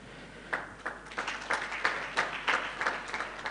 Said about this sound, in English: Another round of applause to the WHO Director